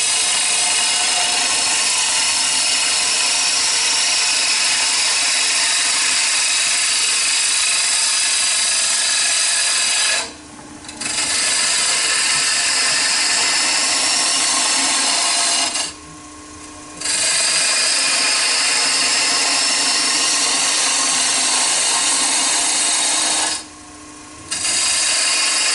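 A wood lathe spinning at 1200 RPM while a gouge cuts a Japanese style wooden cup, giving a steady loud broadband hiss and rasp that drops out briefly three times as the tool lifts off.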